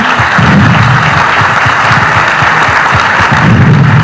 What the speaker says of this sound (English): Big round of applause, please, for Greg